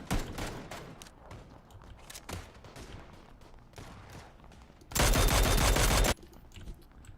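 Gunfire in PlayerUnknown's Battlegrounds: scattered sharp rifle shots early on, then a dense, loud continuous burst of automatic fire lasting about a second near the end, followed by quieter ambience.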